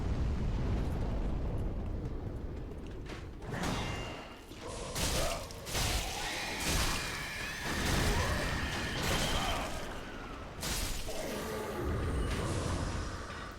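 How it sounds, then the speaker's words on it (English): Repeated grenade blasts in the video game Dark Souls III, a series of loud booming explosions with bursts and crashing debris, one after another over dense continuous battle noise. "we know somebody's going to be lobbing grenades"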